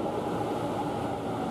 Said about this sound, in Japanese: 新桜台駅1番線ホームを F ライナー快速急行元町中華街行きの電車が通過していきます。